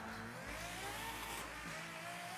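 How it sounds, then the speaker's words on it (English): Ferrari F12 TDF V12 engine in Forza Horizon 5, a loud, steady high-revving roar held close throughout with layered harmonic whine and no pauses. "Next car, the Ferrari F12 TDF."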